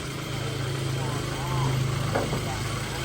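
A 2012 Daihatsu Terios TX with a manual gearbox idles with its hood open, giving a steady low mechanical hum close by while someone talks over it.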